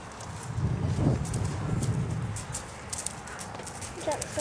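A seven-year-old horse at a demonstration clip-clops with its hooves in a steady walking rhythm, close by, while people talk over it.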